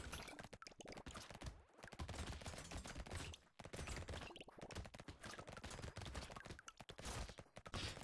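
Rapid automatic gunfire from an SMG in the video game Brotato, a dense, continuous stream of shots with game effects layered over it. Brief dips break the firing, and no speech is heard.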